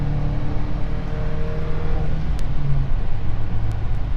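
A 2004 Ford Ranger pickup at full throttle gives a loud, continuous engine roar heard from inside the cab, with rising whining tones as it gains speed.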